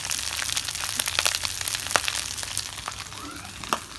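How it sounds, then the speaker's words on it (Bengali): Leftover cooked rice fries in a hot pan, giving a crackling, sizzling hiss with scattered sharp pops and scraping, steady and close at moderate volume, without speech. "ভাতের ফ্রাই।"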